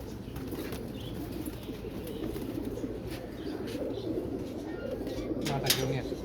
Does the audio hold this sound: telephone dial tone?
no